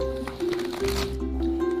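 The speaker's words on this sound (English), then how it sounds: "Do you guys know how to shuffle?" Playing cards being shuffled indoors, a short riffling flutter lasting under two seconds, heard over a steady tonal background hum.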